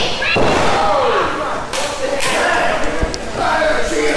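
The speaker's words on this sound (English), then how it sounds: "an attack to Jordan Perry" Pro wrestling ring impacts during a match: several heavy slams and thuds on the mat ring out over steady, loud crowd noise.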